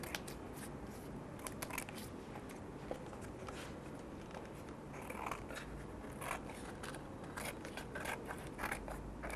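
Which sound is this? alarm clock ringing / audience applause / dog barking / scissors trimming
scissors trimming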